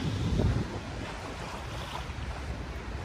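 Wind gusting steadily at Dolomite Beach on Manila Bay, a broad close rushing buffet on the microphone with surf blended in, loudest in the first half second and then even.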